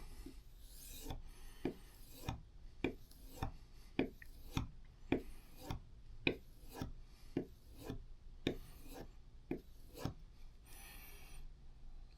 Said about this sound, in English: So we're just going to use this for polishing the flesh side.